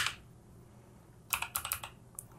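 Keys tapped on a computer keyboard: a brief click, a pause, then a fast close burst of several quiet keystrokes and one final tap, alone in a quiet room.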